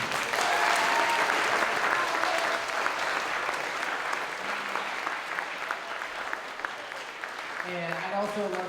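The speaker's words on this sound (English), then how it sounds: "So I'd love to give these guys one more round of applause" A concert audience applauds the musicians at an instrumental concert, a dense sustained round of clapping that stays loud throughout, with voices mixed in toward the end.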